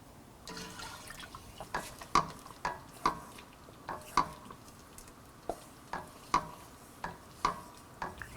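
Coconut milk mixture for ada pradhaman is stirred steadily in a pot, giving a regular series of soft scraping strokes about twice a second with a faint liquid bubbling underneath.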